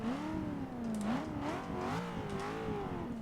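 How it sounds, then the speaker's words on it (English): A supercharged 6.2-liter LSA V8 in a Cadillac CTS-V sedan, in the Forza Motorsport 6 racing game, hums steadily, its pitch rising and falling in smooth waves with a couple of throttle blips, moderately loud with no talking. "Let's start the engine before I show you the engine."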